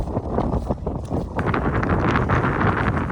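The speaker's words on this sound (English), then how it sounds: "Bit windy here though." Gusty wind on a hike near Fairfield and St Sunday Crag in the Lake District buffets the microphone with low, rumbling bursts that rise and fall, loud and close, with no voices.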